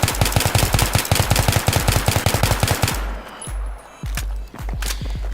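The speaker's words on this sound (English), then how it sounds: "Now we're gonna do burst firing with the foregrip" M16A3 rifle in a first-person shooter game, firing in bursts with a foregrip: a rapid string of sharp, loud, evenly spaced shots for about three seconds, then a few scattered single shots and a short burst, with no speech.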